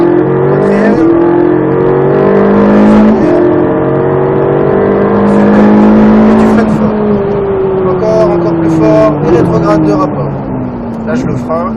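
Ferrari 458 Italia V8 at full throttle on the Croix-en-Ternois racetrack, a loud, close engine note climbing steadily through the revs, dropping at a gearchange and climbing again, with an instructor's voice talking over it.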